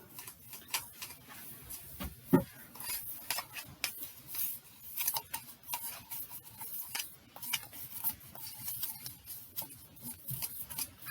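Baking soda, salt, sugar and oil being stirred together into a bath bomb mixture, giving soft scraping and rubbing with frequent small clicks of a utensil against the bowl, steady and close throughout.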